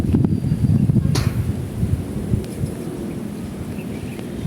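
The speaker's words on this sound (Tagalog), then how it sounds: "Pumapatak na yung ulan eh." Wind gusts roar steadily at an outdoor cemetery as rain begins to fall, a continuous low rumble with faint pattering and an occasional sharp tap, fairly loud and close throughout.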